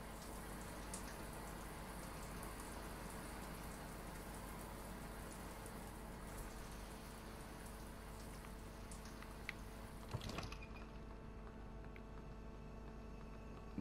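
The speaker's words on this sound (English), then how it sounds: "Have a shower." A running shower in the video game Prey, a steady dense hiss of spraying water that holds evenly for several seconds, then cuts off into a quieter background hum.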